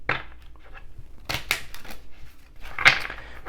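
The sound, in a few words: shuffling a tarot card deck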